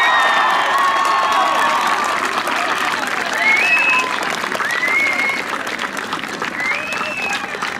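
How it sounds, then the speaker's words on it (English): A large audience applauds and cheers for a middle school graduating class in East Lyme, Connecticut, steady full clapping with whoops and children shouting rising over it, and a voice carrying through the crowd noise. "Can we have a big round of applause for our graduating class, everyone?"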